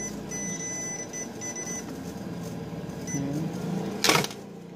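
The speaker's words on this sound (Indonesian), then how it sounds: "Nah, ini juga bunyi bip." Continuity-test beeps from a multimeter probing a shorted MOSFET on a laptop board, several short steady high tones at a moderate level over low background hum and handling noise, with a sharp click near the end.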